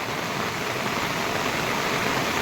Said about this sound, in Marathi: एवढा पूर आलाय की तुम्ही पाहू शकता.